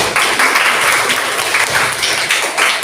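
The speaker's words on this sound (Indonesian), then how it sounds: "kita kasih tepuk tangan" A classroom of schoolchildren applauds during a science lesson on simple filtering, producing loud, steady clapping that fills the room for a few seconds.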